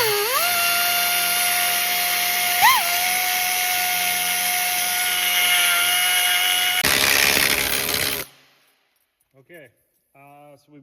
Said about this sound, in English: I'm using a carbide bit on a little straight grinder